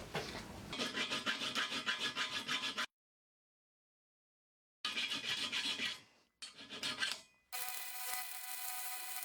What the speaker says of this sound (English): These welds kinda sucked and they looked pretty ugly, so I filed them down a bit